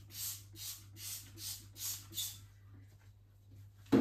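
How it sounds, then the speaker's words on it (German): Six quick spray bursts of grease solvent hit a cleaning cloth in a steady rhythm, each a short close hiss, followed by quiet and a brief knock at the end. "Als nächstes nimmt man sich das Fettlösemittel und sprüht es auf den Lappen."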